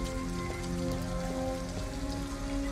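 Steady rain patters on a surface in the video game Detroit: Become Human, a dense even hiss of drops with a faint tonal hum underneath.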